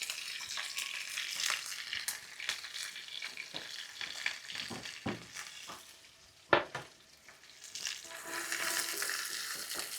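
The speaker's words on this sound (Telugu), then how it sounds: "వీటన్నిటిని పచ్చివాసన పోయేంత వరకు దోరగా వేయించుకోవాలి" Onions and green chillies frying in a pan for an egg bajji dish, a steady bright sizzle with occasional sharp spatula scrapes and clacks, close and moderately loud, no talking.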